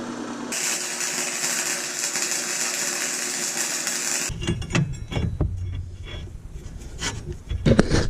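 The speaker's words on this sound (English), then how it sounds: "Pulley is rubbing on that frame." A pulley rubs against the frame of a mudding lawn mower, starting with a harsh, continuous scraping hiss for about four seconds, then changing to irregular rattles and knocks that fluctuate in loudness.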